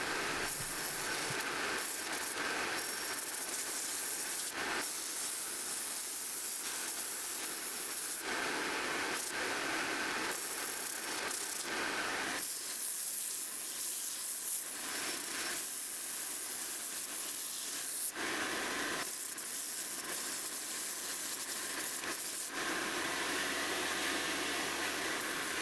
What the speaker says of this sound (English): I sand it thoroughly, starting with 40 grit and going up to 220 grit.